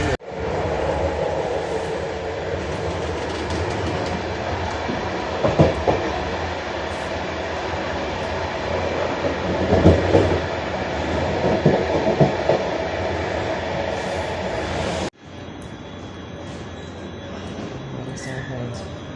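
A train rumbles along the rails with rhythmic clatter and occasional metallic squeals, recorded from inside a carriage, then the noise abruptly drops to quieter surroundings.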